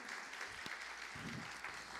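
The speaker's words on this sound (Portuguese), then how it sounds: "vamos dar mais uma vez uma salva de palmas para esse querido caso" A church congregation gives a round of applause, a sustained wash of clapping from many hands with a few sharper claps and faint murmurs underneath.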